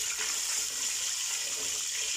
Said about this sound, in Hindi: गोल्डन ब्राउन होने तक इसको हम फ्राई करते रहेंगे।